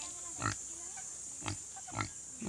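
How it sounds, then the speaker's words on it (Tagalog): Native pigs on a small farm, young males still nursing, give three short, soft grunts spaced about a second apart against a quiet background. "Ayan po ang mga baboy na pagkalalaki na nadede pa."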